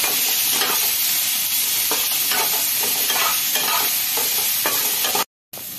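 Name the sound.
vegetables frying in a pan after ginger tempering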